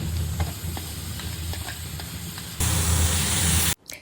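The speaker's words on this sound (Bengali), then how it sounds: "অল্প ভাজার পর একটু লবণ দেব। এরপর দইয়ের মিশ্রণটা দিয়ে দেবো।" Yogurt mixture hits hot oil with frying onions and chilies for a paneer roll filling, giving a steady sizzle with occasional stirring clicks that jumps louder near the end, then cuts off.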